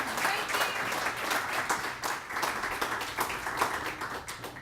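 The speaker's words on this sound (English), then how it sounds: "Everybody give them a round of applause." An audience applauds at a downtown development association awards event, many hands clapping in a steady patter at moderate volume throughout.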